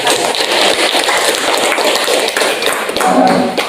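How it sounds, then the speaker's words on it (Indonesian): Steady, loud applause from a classroom of children, dense clapping that fills the room continuously for several seconds with no talking over it. "kita berikan aplaus dulu"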